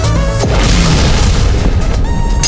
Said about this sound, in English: Looks like it's almost time to fire the bicycle cannon.